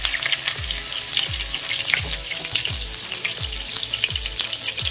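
Cumin seeds crackle and sizzle in hot oil in a kadai, a dense continuous frying hiss with periodic low thumps beneath, steady and close throughout.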